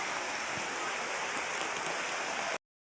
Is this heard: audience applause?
no